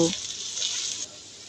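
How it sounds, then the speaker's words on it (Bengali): Cardamom, cinnamon and cloves frying in hot oil with onions, a steady bright sizzle lasting about a second before it drops away, with a brief low knock at the start. "মশলাগুলোকে এবার তেল পেঁয়াজের সাথে ভেজে নেব"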